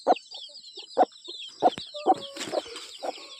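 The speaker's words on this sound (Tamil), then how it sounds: "இதுதான் கோழி." A hen in a village coop gives a run of close, evenly spaced clucks, about six short calls over a few seconds, with faint chirping from small chicks nearby.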